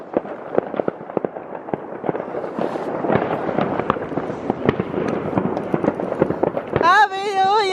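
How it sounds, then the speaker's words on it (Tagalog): New Year fireworks crackle and bang in a dense, continuous barrage of sharp pops, loud and close, while people cheer and shout over them toward the end. "Putukan na talaga doon!"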